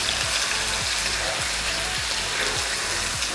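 Garlic, onion and chili sauté in a mix of oil and ghee, giving a steady, dense crackle and hiss with faint low thumps recurring underneath throughout.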